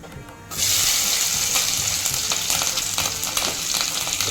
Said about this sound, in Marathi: राई राई बघा तडतडली आहे